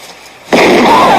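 A sudden loud burst of gunfire erupts in a western film, followed by a sustained roar of shots and echoing reports that fills the rest of the moment.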